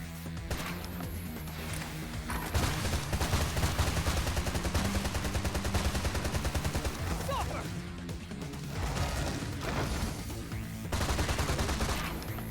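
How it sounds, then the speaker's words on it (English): Gunfire from a character shooting while mounted in the video game Freedom Wars, rapid repeated shots in bursts over game music and effects, with a voice speaking briefly. "So we can actually shoot while we're mounted like this"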